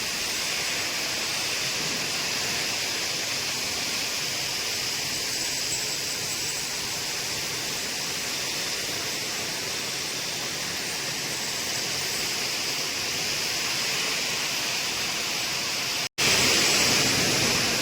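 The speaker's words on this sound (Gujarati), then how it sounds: "એની વધારાની ધાર અહીં કટિંગ થઈ જાય છે" A stone-cutting machine trimming the edges of stone slabs in a tile factory gives off a loud, steady industrial roar and grind that runs unbroken for the whole stretch, close by, with no voices.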